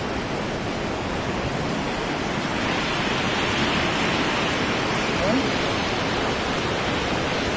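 The flooded Grande Riviere river in Trinidad runs high from bank to bank, producing a steady, heavy roar of rushing water that fills the whole stretch without a break.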